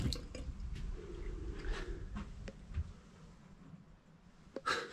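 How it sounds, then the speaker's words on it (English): Water is hand-pumped into a small sink on a boat, giving faint, sparse drips, squelches and small splashes in a quiet cabin, with a brief louder gurgle near the end. "You just need to pump water from here."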